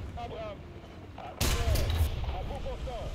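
A tank cannon fires one shot in a video game, a sudden loud booming blast that decays over about half a second, with someone talking before and after it.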